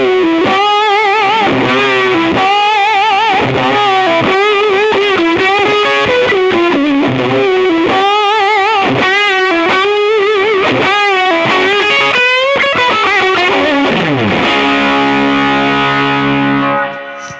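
Sustained electric guitar lead melody played through an effects unit with distortion and echo, bending notes in a loud, continuous singing line that ends on a ringing, decaying chord; no talking.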